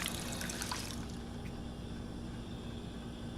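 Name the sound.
water fountain trickling in Fallout video game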